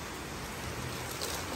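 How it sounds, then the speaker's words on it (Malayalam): Heavy rain pours steadily as a dense, continuous wash of noise, fairly quiet and even throughout with no voices. "നല്ല മഴ കേട്ടോ"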